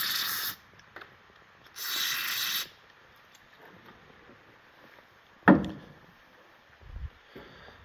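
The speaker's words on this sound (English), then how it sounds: "carb cleaner." Carb cleaner sprays onto a 440 big block engine part in short hissing bursts, two close aerosol blasts followed by a sharp clank of metal and faint workshop handling, no talk.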